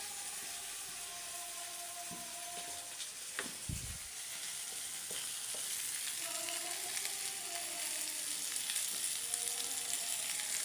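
Squash and potato with carrots fry in a home kitchen pan, giving a steady close broadband sizzle throughout, with a few brief utensil knocks and tones near the middle.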